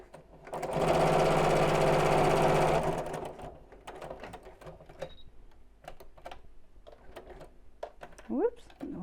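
A sewing machine stitching a Biscornu zipped pouch, one loud steady run of rapid stitching lasting about two seconds, then quieter handling clicks and taps with a voice speaking briefly.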